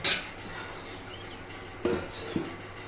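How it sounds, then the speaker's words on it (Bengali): A spoon stirs egg curry with potatoes in a metal pot before a lid goes on. A sharp clink opens the stretch, then two softer clinks follow later over a quiet background hum. "একটু নেড়ে দিয়ে ঢাকা দিয়ে দেবো 10 মিনিটের মতো।"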